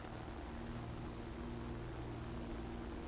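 Steady, loud drone of a P-36A Hawk fighter's engine in the game War Thunder, running while overheating, a constant hum with strong low tones and no breaks or talk.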